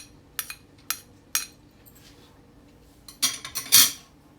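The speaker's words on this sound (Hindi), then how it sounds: "इसे मैं अच्छे तरीके से अब मिक्स कर रही हूँ इसके अंदर" A spoon stirs boiled pumpkin raita in a bowl, giving a few sparse, light clinks against the bowl's side followed by a brighter cluster of scrapes and taps near the end.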